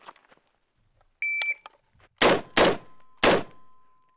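A shot timer beeps once, then an HK 91 rifle fires three loud, close shots on a shooting range: two in quick succession, a short pause, then the third, each followed by a brief echo. Nobody speaks.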